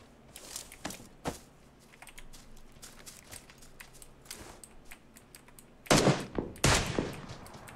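Gunshots ring out in a Latvian tournament match of an online shooter, with scattered sharp cracks through the first half and a louder, denser burst of rapid fire near the end.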